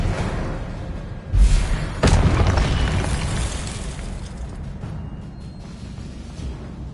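An Expelliarmus disarming spell cast in Hogwarts Legacy, two heavy slamming impacts in quick succession, each with a booming low thud, then a fading rumble and a few faint clicks.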